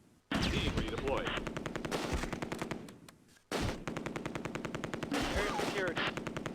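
Rapid machine-gun bursts and gunfire crackle in the World War II strategy game Close Combat A Bridge Too Far, two long dense bursts separated by a brief lull, loud and close, with faint voices beneath.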